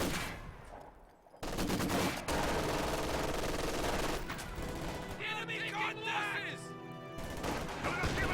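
MG42 machine gun fire in a World War II strategy video game, loud sustained bursts with gunshots and battle noise that cut out briefly, then fuller firing with a short lull near the end.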